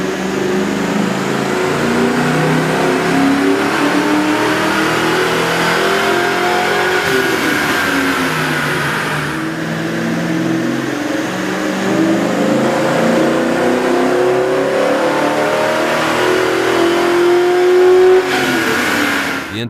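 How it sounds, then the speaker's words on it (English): A car fitted with a K&N 57-2519-3 cold air intake revs on a dyno, its engine loud and close, rising and falling through several long pulls with a steady roar throughout. "we ran the vehicle on the dyno to test the sound comparison versus the stock intake"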